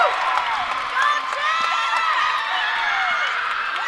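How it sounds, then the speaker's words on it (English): A crowd at a college gymnastics tri-meet cheers and whoops continuously, with excited high-pitched shouts layered over a dense roar, loud and sustained for the whole stretch. "Meanwhile, much of the cheering noise during that routine coming from those supporting the Red Hawks today as Jaden Kuseth finished her routine on the"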